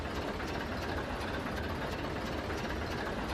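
Diesel engine of a ChME3 shunting locomotive in a train simulator game, a steady low rumbling drone with dense throbbing texture held at constant loudness throughout, no voices.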